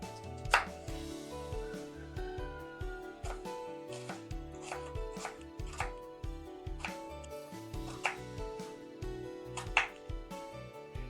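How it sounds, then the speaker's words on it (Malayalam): A knife cuts cauliflower into pieces on a board with a steady series of distinct, crisp chops, some louder than others. "നമുക്ക് ഇഷ്ടമുള്ള സൈസിൽ നമുക്കിതിനെ കട്ട് ചെയ്തെടുക്കാം"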